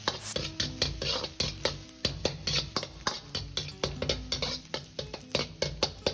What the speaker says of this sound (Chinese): 接着下入姜蒜米煸炒出香味